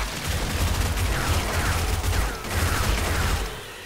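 Gunfire from 7 Days to Die with the Darkness Falls mod, aimed at enemies, comes as dense, continuous rapid shots with a constant loud rumble and no break.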